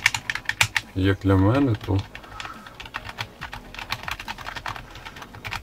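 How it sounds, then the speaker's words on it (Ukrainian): Brisk clicking keystrokes on an A4Tech Fstyler FG1010 wireless keyboard, a steady close patter of fairly loud taps continuing after a brief stretch of talking near the start. "мені більше подобається друкувати на автотеч клавіатурі"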